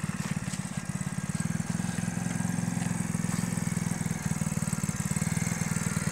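Small engine on a cooler scooter runs steadily at close range, a loud continuous putter with a fast even pulse throughout, lightly ragged at the start.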